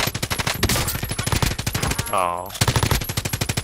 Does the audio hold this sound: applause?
no